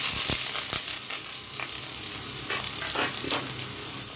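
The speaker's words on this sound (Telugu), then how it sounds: "ఇప్పుడు దీంట్లో మనం ఆనియన్స్ అనేది ఫ్రై చేసుకుందాం." Onions fry in oil in a preheated pot, a steady close sizzle with scattered clicks and scrapes of stirring.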